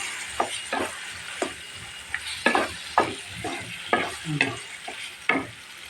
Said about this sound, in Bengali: কলিজাটা বোনা হচ্ছে